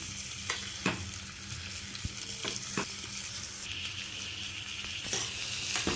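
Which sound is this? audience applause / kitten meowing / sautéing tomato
sautéing tomato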